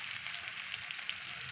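Whole red chillies and white cumin seeds frying in oil for a tadka for Punjabi kadhi pakora, a close, steady hissing sizzle with faint crackles throughout.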